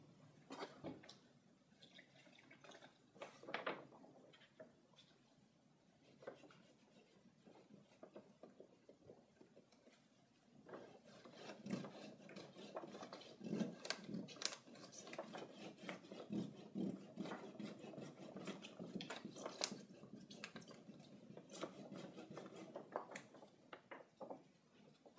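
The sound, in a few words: scrubbing paint off a graffiti-proofed wall with soap and water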